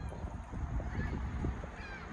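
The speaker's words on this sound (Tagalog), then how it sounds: "So, ayan yung mga ibon. Masasaya yung mga ibon." Outdoors on a mild, windy spring day, geese honk in scattered calls that sound moderately distant over a constant breezy rumble.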